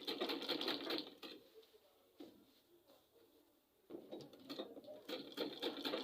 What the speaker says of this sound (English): So I'll be sewing it now